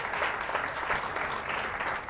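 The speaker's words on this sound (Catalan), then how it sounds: "Aplaudim, aplaudim." A studio audience at a Catalan quiz show applauds in a steady wash of clapping that holds at moderate loudness throughout the short burst.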